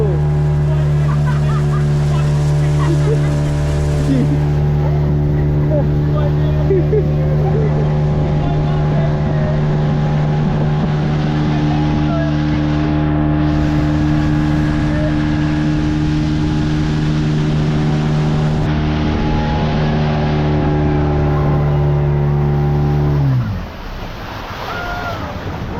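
Speedboat on Massanjaro Dam, a loud droning engine with strong steady harmonics, wind buffeting and water rushing past, sustained at high volume before the motor winds down sharply near the end.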